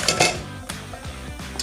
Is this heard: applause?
no